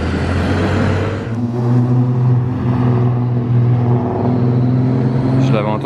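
A Ferrari SF90 Stradale sports car accelerates on a street in Monaco, a loud, steady engine drone with a rising tone. It stays close and dominant throughout.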